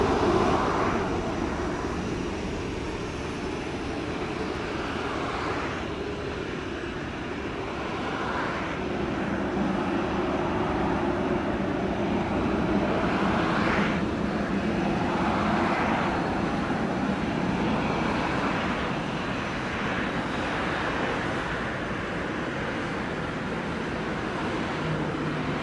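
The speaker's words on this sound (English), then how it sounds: "clear for takeoff runway 25 when in position" An American Airlines Boeing 777 takes off from runway 25 at Montego Bay. Its jet engines make a loud, sustained roar that holds steady for about twenty-five seconds, with a broad rushing wash and no talk over it.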